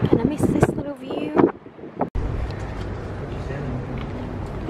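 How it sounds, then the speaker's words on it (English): Strong, cold wind buffets the microphone outdoors on a hillside lookout near a large Buddha statue after rain, a steady loud rumble running through the clip, with people talking over the first two seconds. "It is so windy and cold."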